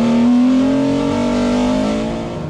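Rallycross race car drifting through a left-hand corner at Mayenne, engine held at high steady revs with a strong droning tone, close and loud, easing slightly toward the end.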